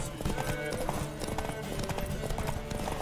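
Steady clip-clop of horse hooves trotting along in a continuous rhythm in The Witcher 3: Wild Hunt, with a busy game soundscape underneath.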